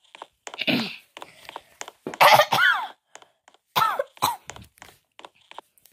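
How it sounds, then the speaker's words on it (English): A person coughs several times in short bursts with pauses between them, close and fairly loud, with a throat-clearing quality and no other voices. "Sorry about that, guys. I had to cough."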